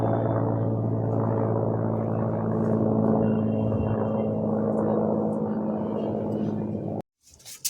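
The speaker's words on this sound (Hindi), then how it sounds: "आज तो गाइस सुबह से हेलीकॉप्टरों की आवाज़ आ रही है" Helicopters droning overhead in a steady, continuous low rumble with a strong engine hum, unbroken for several seconds before cutting off.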